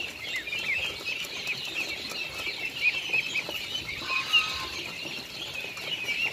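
Ducks on a farm, kept on a platform above a catfish pond, make a steady, busy layer of quacking, clucking calls and wing flutters at moderate distance, with no talking.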